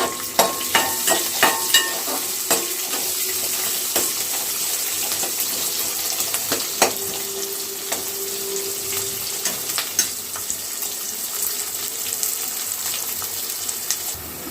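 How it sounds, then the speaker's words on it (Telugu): Onions, garlic and curry leaves frying in a pan for a dried fish curry, a constant close sizzle with a few sharp clicks of a utensil early on and occasional light scraping, no speech. "యాడ్ చేసుకున్న తర్వాత ఫ్రై చేసుకోవాలి."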